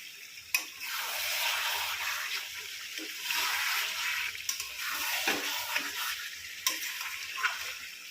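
Chicken being fried with spices in a pan for biryani, giving a steady close sizzle with occasional sharp ticks and scrapes, no talking.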